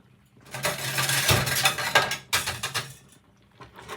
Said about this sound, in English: One more stir.